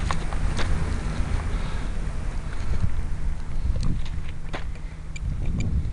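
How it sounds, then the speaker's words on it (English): Steady outdoor wind rushing across an open flying field, with broadband gusty noise and microphone buffeting throughout, joined by a few faint clicks. "Wind's starting to pick up a little."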